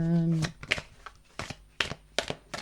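Tarot and oracle cards being shuffled in several quick riffling bursts with short pauses between them, close by, after a voice at the start.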